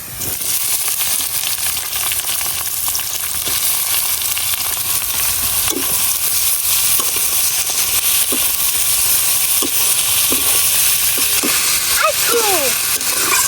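Chopped potato, beans and cabbage sizzle loudly in a hot pan, a dense steady fry hiss with brief scraping strokes as the vegetables are stirred, while a voice talks faintly underneath.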